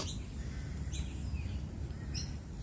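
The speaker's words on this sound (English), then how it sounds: "All of the birdie sounds." Small birds chirp in Australian bush, brief high tweets recurring over a steady low rumble of wind or ambient noise, moderately distant.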